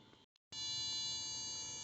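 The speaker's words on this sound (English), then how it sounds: "That's a very annoying buzzer." Warning buzzer in a 1980 Triumph TR7, set off by shorting its wires: after a brief faint blip, a loud, steady electronic tone switches on and holds continuously to the end.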